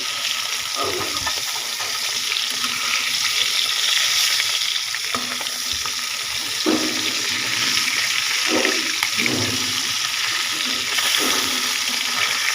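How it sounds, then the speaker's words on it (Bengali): Steady hiss of poa fish frying in hot oil, with occasional louder crackles and spatters throughout, close by and without any talking. "কয়েকটা পোয়া মাছ বেজে নিচ্ছি আমি"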